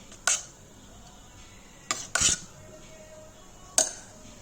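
Four sharp scraping clinks of a spoon scooping porridge into a blender jar, spaced unevenly over a few seconds, close and fairly quiet in a still room.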